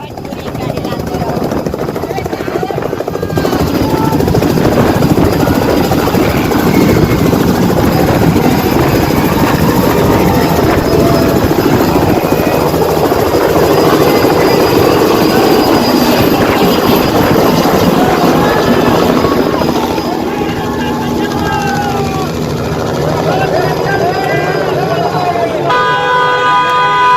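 A helicopter carrying Pawan Singh comes in to land at Jokahari near Ara with a loud, sustained rotor roar. A crowd shouts, vehicle horns honk, and the noise eases slightly near the end.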